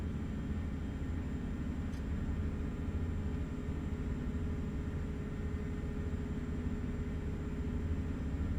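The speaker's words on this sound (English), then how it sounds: "Christ, the noise coming out of this truck." Truck engine heard from inside the cab: a steady, dense low rumble and drone that never lets up, fairly quiet overall.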